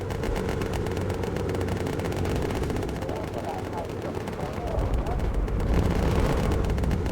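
Flak from German 88mm anti-aircraft guns bursts around a bomber in the Bomber Crew video game, a dense rumbling barrage of booms and crackle that runs steadily and grows louder toward the end, with voices talking over it.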